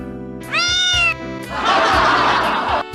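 A cat gives a rising, drawn-out meow, then a longer, rougher, wailing meow, both loud and close, with no talking.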